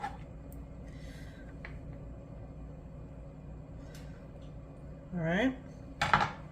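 Cucumber, tomato and raw onion salad being mixed in a bowl: faint scraping and a few utensil clinks against the dish, ending with louder clattering strikes, under a soft room hum with a brief spoken remark.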